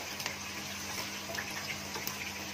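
Mango slices fry in hot oil with a continuous dense hiss and sizzle, broken by faint crackling pops throughout.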